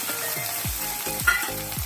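Chopped tomato frying in a pan with onion and garlic for a Bengali lote fish gravy, a continuous close sizzle broken by several rhythmic spatula scrapes against the pan, with no talking.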